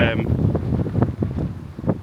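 Gusty wind buffets the microphone outdoors near the Chateau de Saumur in the Loire Valley, France, a steady low rumble with swells under a person talking throughout.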